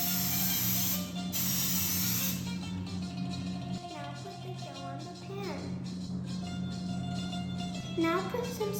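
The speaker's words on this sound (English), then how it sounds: "Now put some cooking spray on the pan." Cooking spray hisses onto a pizza pan in two quick bursts near the start, over a steady background hum and faint kitchen clatter.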